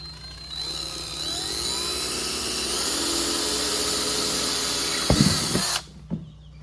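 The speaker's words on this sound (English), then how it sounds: "And I'm gonna drill a pilot hole." A power drill whirs steadily for several seconds boring a pilot hole while preparing a chicken coop, its pitch shifting slightly under load, then cuts off with a couple of knocks and brief spin-down.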